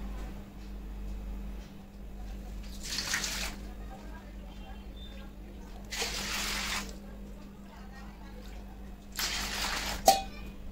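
Water poured off soaked wheat extract in a home kitchen, with three separate bursts of splashing pouring spaced a few seconds apart over a low steady hum, ending in a small knock.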